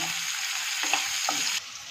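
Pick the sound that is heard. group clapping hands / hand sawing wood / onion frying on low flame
onion frying on low flame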